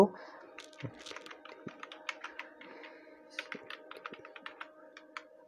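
Quick bursts of close computer keyboard typing while working in Excel, uneven clicks of individual keys with short pauses, quiet and alone.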